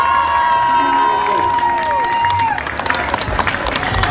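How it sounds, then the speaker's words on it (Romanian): A Comic Con audience claps and cheers loudly for two people on stage, with whoops and high shouting voices over steady clapping, which grows more scattered near the end. "Aplauze pentru cei doi."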